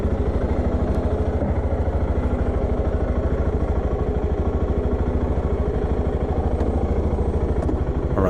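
A Voge 650 DSX motorcycle rides through town at night. Its engine gives a loud, steady, throbbing drone with a fast even pulse and stays close the whole time, with no talking.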